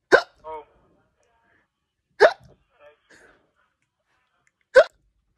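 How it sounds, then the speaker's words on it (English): Three sharp, loud hiccups come from one person at spaced intervals, each a sudden gulping catch, with quiet between them and a few faint breathy sounds. "I've got the hiccups."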